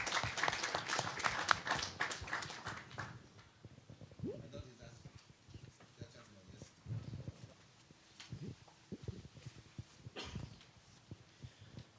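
Audience applause at a climate lecture in Beijing, a dense burst of clapping for about three seconds that thins out into scattered claps as a voice begins speaking.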